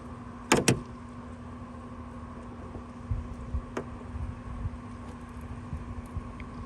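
A tab on a car hood shock pried out with a tool, giving two sharp close clicks early on, then a later click and scattered light scraping and knocks in a quiet garage.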